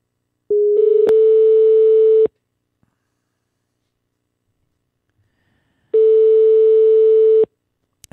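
Two long, loud busy-signal tones on a telephone line after a call cut off, each sounding for over a second, separated by a long silence.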